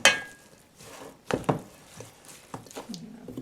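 A kale salad with sea vegetables and tomato is stirred in a bowl, giving soft wet squishes and a few utensil clinks against the dish, fairly quiet and close.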